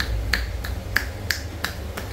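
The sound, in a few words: hands patting the back of the thigh in a massage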